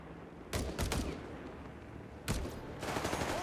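Carcano bolt-action rifle fire in a Company of Heroes 3 battle, heard as clusters of sharp, fairly close shots with a dense burst early on and more reports near the end over a low battlefield rumble.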